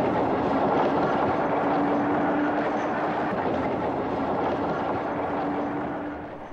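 A North Shore Electroliner electric train rolls past near Lake Bluff, Illinois, a loud, continuous rumble and rail roar with a faint steady whine, holding strong before easing slightly at the end.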